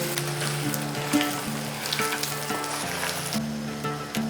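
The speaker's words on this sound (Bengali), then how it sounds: "সাথে দিয়ে দিচ্ছি শুকনো লঙ্কা 4টে, দিয়ে দিচ্ছি সামান্য একটু কাশ্মীরি লাল লঙ্কার গুঁড়ো, দিয়ে দিচ্ছি চীনাবাদাম।" Four dry red chillies, Kashmiri red chilli powder and lightly roasted peanuts sizzling in hot oil for khichuri tempering, a loud continuous fry with spitting crackles and a few clinks of the spoon.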